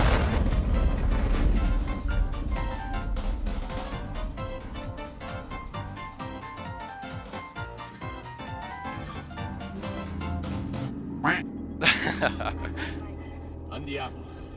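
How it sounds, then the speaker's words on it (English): In the survival horror game Alien Isolation, an explosion bursts with sudden booming cracks near the end, following a stretch of dense game music and ambience. "there is one explosion coming shortly"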